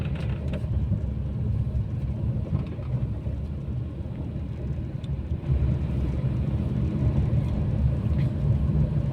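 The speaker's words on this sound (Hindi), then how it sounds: "देखो 30 से ऊपर चल रही है गाड़ी।" A steady low rumble of a car's engine and road noise from inside the vehicle while it drives at over 30 km/h, continuous and fairly loud.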